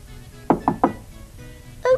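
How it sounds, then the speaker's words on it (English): Three quick, evenly spaced knocks on a door, close and crisp, followed moments later by a brief voice. "there was a knock at the door"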